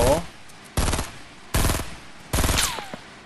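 Sniper rifle fire in the Fortnite video game: four loud, sharp cracks at roughly even intervals, each with a short echoing tail, standing alone with quiet gaps between them.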